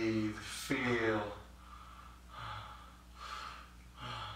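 Deep, forceful breaths drawn through the mouth during a holotropic breathwork session, with a loud gasping inhale followed by several rhythmic breath cycles at close range, while a voice speaks softly alongside.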